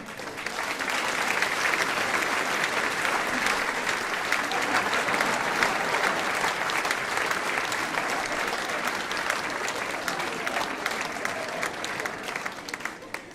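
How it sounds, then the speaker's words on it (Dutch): Audience applause at a live carnival stage show in Stramproy, a sustained loud wash of many people clapping that holds steady for over ten seconds with faint crowd murmur beneath and no talk. "geef ze nog een daverend applaus"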